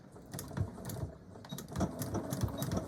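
A sewing machine stitches through several stacked fabric layers of a handbag organizer, quiet steady mechanical chugging in short rhythmic bursts, close up with no talking.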